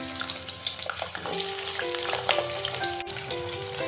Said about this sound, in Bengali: তেলটা গরম হয়ে গেছে তেলের মধ্যে আলুগুলো দিয়ে দেবো